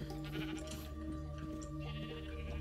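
Sheep bleat again and again in the video game Minecraft. The calls are clear and overlap one another against a steady, dense game background, and no one speaks.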